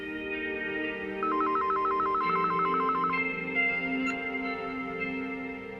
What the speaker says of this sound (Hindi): दामिनी, फोन लो